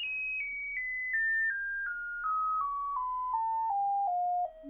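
A DALI speaker driver plays a frequency sweep test tone: a clean, steady electronic tone that steps downward in pitch about a dozen times at an even rhythm, loud and alone with no talking.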